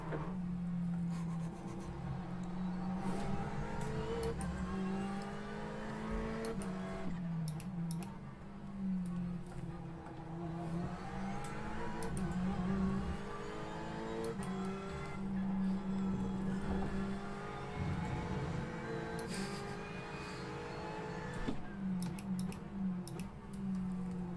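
Ferrari 488 GTE race car lapping Road America while an LMP2 prototype passes: a steady, close engine drone with repeated rising and falling pitch sweeps as the car accelerates and shifts, continuous throughout.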